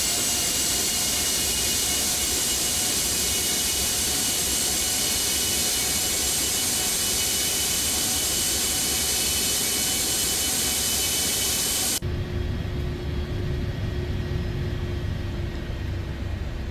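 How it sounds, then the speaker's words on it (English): Gulfstream 550 jet engines idling in a flight simulator, a loud steady whine and broadband roar that holds constant, then abruptly drops to a quieter, duller rumble near the end. "Idle on the engines."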